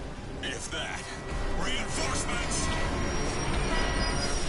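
A train in the video game Bulletstorm rumbles steadily with rolling wheel noise and a high metallic squeal, while people talk over it.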